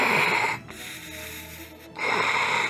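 A person imitates Darth Vader's mechanical breathing with a loud, close, raspy hiss for one inhale, a quieter pause, then another hissing breath; no words are spoken.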